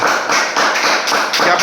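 A classroom of students claps together for a classmate, a loud, close burst of rhythmic applause with steady pulses.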